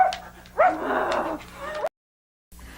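A man imitating a chihuahua with a voice, giving a couple of yappy, whiny bark-like yelps that cut off abruptly into silence.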